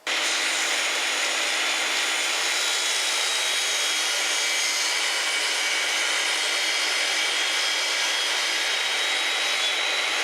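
A table saw blade cuts a 45-degree miter for a spline joint, making a loud, steady, continuous whine and rush that holds evenly from start to finish without any talking.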